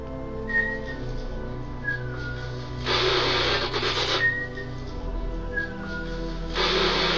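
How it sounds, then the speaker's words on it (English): Person whistling a melody indoors while seated on a chair, a clear near tune in short phrases with bursts of broadband rubbing noise in between. "so here's me whistling on a chair"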